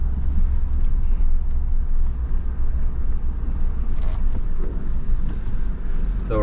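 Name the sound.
wind blowing outdoors near a wildfire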